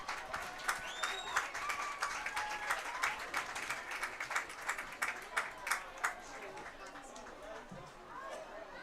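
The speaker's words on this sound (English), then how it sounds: "How about another round of applause?" Applause from a crowd at a high school football game halftime, a dense patter of clapping with many sharp transients, steady and moderately loud with crowd chatter mixed in throughout.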